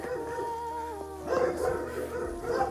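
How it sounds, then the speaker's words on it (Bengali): Several dogs bark and yip at a distance, overlapping in short bursts against a steady background hum. "তারাও ঘেউ ঘেউ করতেছে যদি আমাকে দেখে"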